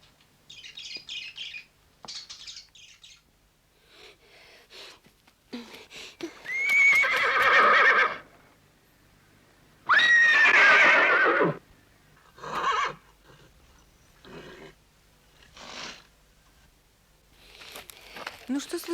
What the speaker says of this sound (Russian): Это лошадь.